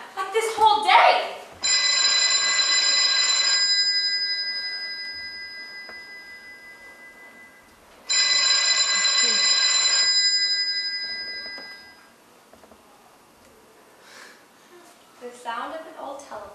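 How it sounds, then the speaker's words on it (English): An old telephone rings with bright electronic bell tones in two long bursts separated by silence, loud and clear, with brief voices and noises before and after. "The sound of an old telephone could be heard ringing through every empty room."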